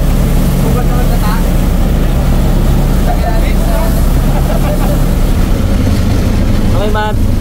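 Boat engine droning steadily while under way at sea, a loud, close, continuous low rumble with wind and water noise, and someone talking intermittently over it.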